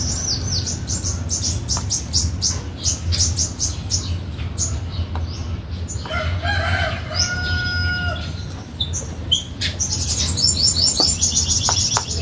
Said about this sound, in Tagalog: Yan na naman ang mga ibon.